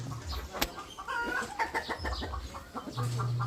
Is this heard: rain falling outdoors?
no